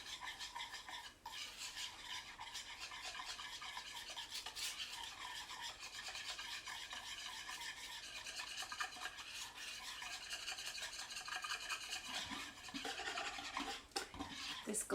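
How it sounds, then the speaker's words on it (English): Whisk stirring a glaze of powdered sugar, vanilla and lemon juice in a bowl, a soft, continuous scraping and swishing that runs steadily and fairly faintly throughout, with no talk. "We're going to whisk these together."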